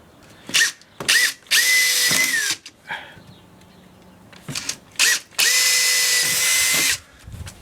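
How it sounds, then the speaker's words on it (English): A power drill boring screw holes for installing a kids' bed runs in several bursts: a few short stabs, then two long steady whines with brief pauses between, close and loud, with no talking. "We'll drill the holes."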